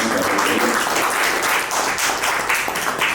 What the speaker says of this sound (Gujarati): જોરદાર તાળીઓથી આપણે